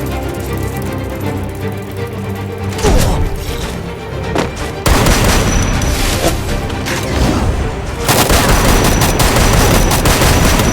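Rapid bursts of MP40 submachine gun fire from the Free Fire video game, dense and loud, with sharper volleys picking up midway and again near the end.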